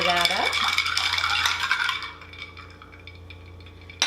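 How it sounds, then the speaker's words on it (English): A spoon stirs iced cold brew coffee in a glass, rattling ice and clinking against the sides for about two seconds before fading into faint scraping. "Stir that up."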